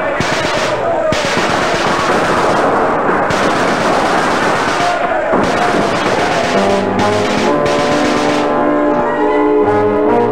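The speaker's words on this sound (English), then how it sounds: "We just keep firing." Sustained volleys of gunfire and explosions in a war drama beach battle against Japanese troops, loud and dense with overlapping bursts and booms throughout, shifting toward a rumbling mix with music-like tones near the end.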